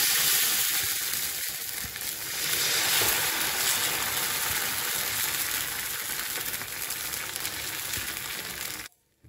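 Adai batter of bottle gourd sizzles loudly and steadily on an oiled dosa griddle, a dense continuous frying hiss with faint crackles that cuts off abruptly at the end.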